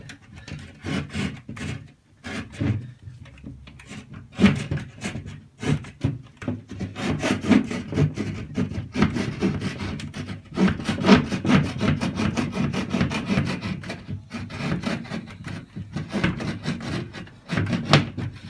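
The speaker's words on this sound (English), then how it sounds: "All I gotta do is cut this door in." Hand saw cuts a door opening into a small wooden model house, with repeated rasping strokes in an uneven rhythm, close and fairly loud, interrupted by brief pauses.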